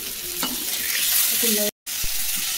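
Potatoes, drumstick pieces and green chillies fry in a pan while a spoon stirs them, producing close scraping strokes over a bright sizzle, with a brief dropout near the end.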